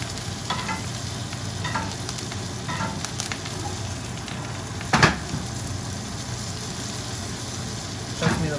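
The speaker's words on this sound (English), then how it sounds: "Careful not to burn butter." Butter sizzles and fries steadily in a pan, a continuous close crackle broken by a few louder stirring scrapes and clinks.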